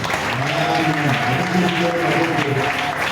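A church congregation claps loudly for the Lord during an evangelical service, steady dense applause with crowd voices and a held musical tone underneath throughout.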